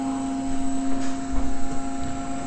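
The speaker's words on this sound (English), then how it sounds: "this is the vacuum pump here" Vacuum pump in a product demonstration rig, switched by a solid state relay, running as a steady close hum with strong low tonal lines and a constant noisy whir throughout.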